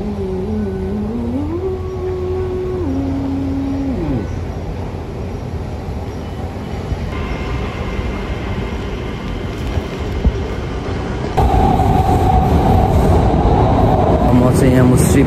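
Metro station platform in Qatar, with a steady low rumble and rising tonal whine of an arriving train, then a louder broadband rush near the end as the train pulls in close; no clear talk.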